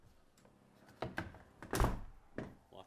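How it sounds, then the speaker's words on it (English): Door of an old carriage house being closed, a few wooden knocks and rattles building to a solid thump, then a softer knock, close and fairly quiet. "Just close this door"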